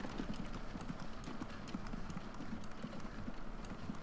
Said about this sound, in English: horse isn't too far away. I can hear him.